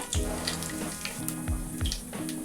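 Mustard seeds and cumin crackling and sizzling in two spoons of hot oil, a steady close fry with small pops and spits throughout.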